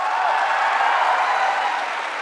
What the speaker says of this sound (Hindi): जोरदार तालियां उज्जैन के लिए।